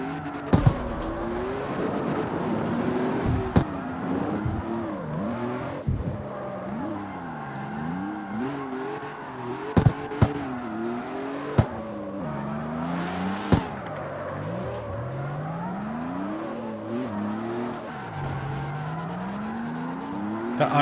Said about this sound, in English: The RX-7 is so loud.